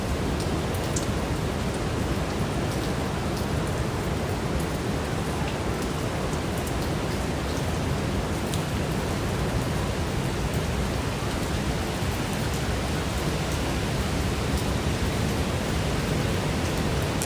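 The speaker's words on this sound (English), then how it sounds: "now we're getting a rain band coming in and heavy rain" Heavy typhoon rain pours steadily in Baler, Philippines, a dense continuous hiss with no break across the whole stretch, loud and close, with no voices over it.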